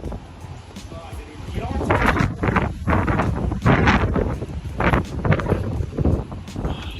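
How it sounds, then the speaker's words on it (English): Strong wind buffets the microphone in gusty, rumbling bursts, with faint voices underneath. "incredibly windy right now"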